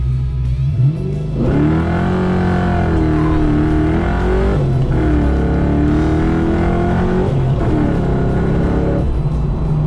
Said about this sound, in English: Ooh, that was way too much wheel spin.